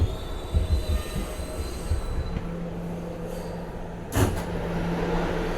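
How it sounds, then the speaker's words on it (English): Brooklyn-bound R211 D Express subway train in New York running along the track, with a steady rumbling roar and sustained high metallic wheel squeal, plus a brief sharp burst near the end. "This is a Brooklyn-bound D Express train."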